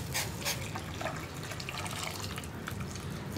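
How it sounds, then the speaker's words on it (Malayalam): Hot water is poured into a pan of green peas curry, a soft, steady liquid splash and trickle heard close and faint with no talk. "ഇനി ഇതിലേക്ക് ചൂടുവെള്ളം ചേർത്ത് കൊടുക്കാം."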